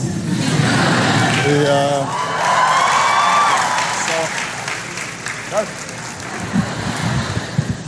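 At a political speech, a crowd breaks into applause and scattered cheering. The clapping is a steady wash that swells and fades, and someone talks through it on a microphone.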